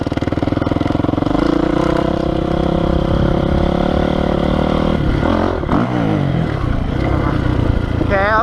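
Honda CRF450R dirt bike ridden on trails, its engine loud and close throughout, revving and shifting pitch as the throttle opens and closes, with a steady rough drone and brief rises in pitch near the end.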